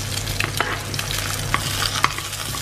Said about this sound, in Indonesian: Ini telurnya agak diaduk ya.